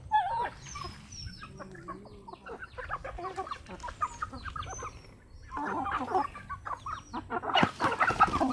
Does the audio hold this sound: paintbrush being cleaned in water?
no